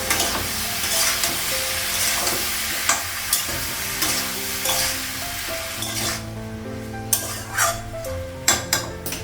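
A paste of ginger, chili and cumin, with salt and turmeric, sizzles steadily in a pan at home, broken by scraping stirs and occasional sharp clinks of a utensil against metal, with no talking.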